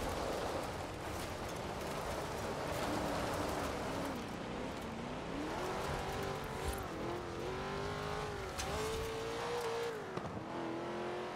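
Cars race in Forza Horizon 4, a steady loud engine roar climbing and falling in pitch as the car accelerates, with tire noise and other cars around and no speech over it.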